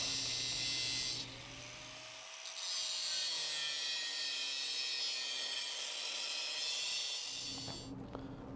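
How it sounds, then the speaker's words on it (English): An angle grinder cuts through a tubular steel crossmember with a loud, continuous high-pitched whine and grinding hiss that dips briefly and resumes, then stops near the end. "we're going to have to go old school and cut this with a grinder"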